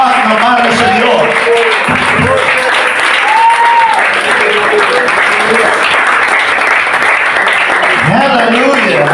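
A church congregation gives a clap offering during worship, loud continuous applause filling the room while a voice speaks and calls out over the clapping throughout.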